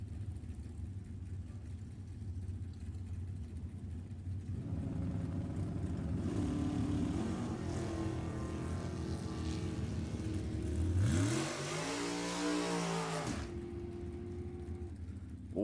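A 1962 Chevy II and a 1969 Camaro launch in a drag race, their engines a sustained roar that builds midway, then a sharp revving sweep climbs and falls before settling to a steadier drone.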